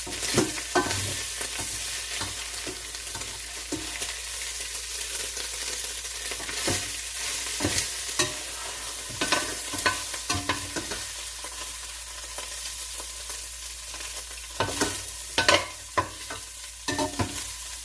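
Beef for Hungarian goulash sears in a hot pan with a continuous close sizzle, broken by frequent sharp scraping and stirring clicks.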